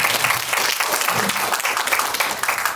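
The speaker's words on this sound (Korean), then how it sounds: "김한민 감독님께 다시 한번 여러분 뜨거운 박수 한번 부탁드릴게요." Warm applause from a symposium audience at Dongguk University for film director Kim Han-min, a brief burst of dense clapping from many hands, steady and fairly close throughout.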